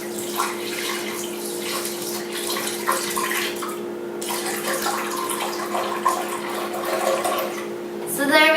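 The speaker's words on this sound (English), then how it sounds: "As the base, I'm going to use some almond milk." Almond milk poured steadily into a container for a smoothie, a continuous liquid splash and trickle running throughout, close and moderately loud, with a faint steady hum underneath.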